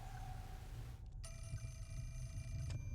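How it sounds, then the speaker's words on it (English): A telephone rings in the horror game Fatal Frame 4, a faint steady electronic ring over a low rumbling ambient drone. "Another phone."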